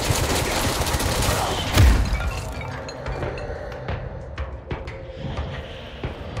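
Gunshots in the game Control, a dense burst of loud firing and a heavy impact at the start, fading into scattered sharp cracks and clinks over a murky background.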